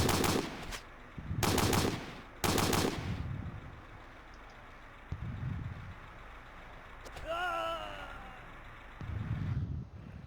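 Video-game MP40 submachine gun and machine gun fire in a snowy, wooded battle with tanks: three loud bursts of automatic fire in quick succession, then quieter, more distant shots over a low engine rumble, with a brief whistling tone.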